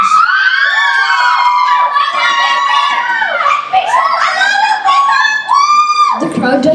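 Children in a school fable play shouting and cheering together, a loud, high-pitched chorus of whoops and squeals rising and falling close by without pause.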